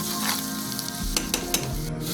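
Onions frying with turmeric powder in a pan, stirred with a spoon: a steady close sizzle with a few soft scraping knocks from the spoon partway through, no voices.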